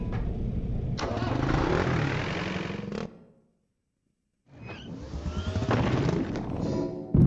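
Vehicle engine in the R.E.P.O. video game, a loud rumbling run that cuts out into a short silence before revving back up with rising pulses.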